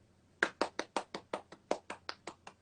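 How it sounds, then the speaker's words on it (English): About a dozen sharp hand claps in a steady, fairly quick rhythm, close and clear with nothing else underneath. "Let me clap."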